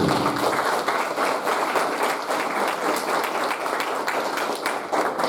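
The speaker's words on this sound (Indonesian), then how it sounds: "Aplaus untuk kalian yang memilih suatu." Applause at a graduation ceremony held by an Islamic boarding school foundation, a steady wash of many hands clapping that holds at even loudness throughout, with faint talk underneath.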